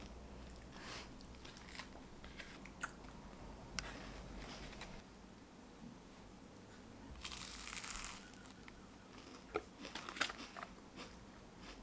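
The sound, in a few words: biting and chewing a chocolate pastry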